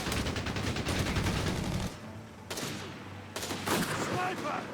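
Gunfire in the video game Company of Heroes 3 with a Springfield sniper rifle among it. Rapid, dense bursts of shots come in several loud waves with short gaps between them, under faint speech.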